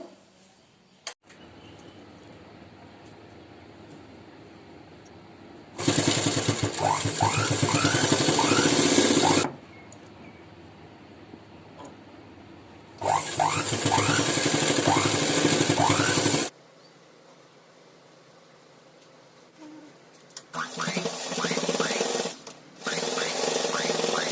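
A sewing machine stitches along the fabric edge of a foot mat made from old leggings, running in three loud close bursts of rapid motor whir and needle chatter. Quieter gaps with low hum separate the bursts.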